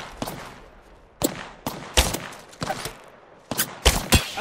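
Video game gunfire crackling in short, loud bursts: a few single shots, then clustered volleys of rapid fire separated by brief pauses.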